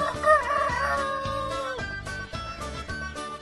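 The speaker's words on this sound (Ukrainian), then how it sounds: "Півень кукурікає не тільки зранку" A rooster crows once, a long, wavering call that rises and then trails off, with faint clucks of hens and rustling around it.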